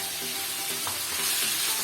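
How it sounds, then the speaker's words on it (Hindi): Marinated chicken frying in about two tablespoons of oil in a pan, a dense continuous sizzle and crackle held at a steady level throughout, close and fairly loud, with no speech. "पैन में 2 टेबल स्पून मैंने ऑयल लिया है तो चिकन भी हमारा मैरिनेट हो चुका है। अब मैं इसको कुक करूंगी।"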